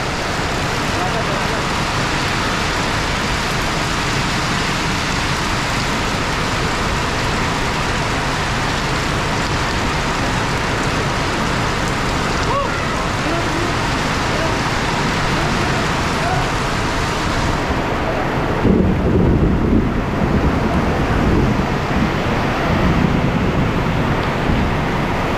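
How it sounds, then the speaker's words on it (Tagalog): Heavy rain pours down as a dense, steady roar that carries on throughout, growing a bit louder and rougher near the end. "Lakas ng ulan po."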